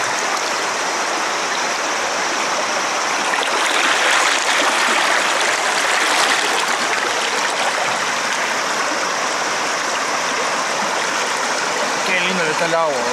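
River water rushes steadily past at close range in Sagamihara, a loud continuous broadband flow with faint voices underneath.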